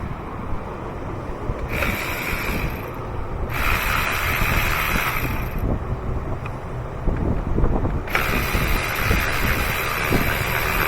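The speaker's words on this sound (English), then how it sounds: "So in this case, we'll be using the electric ratchet." An electric ratchet works spark plugs out of a first-generation Lexus GX 470, giving three separate bursts of motorized whirring, each a couple of seconds long, over steady broadband background noise. Nobody speaks.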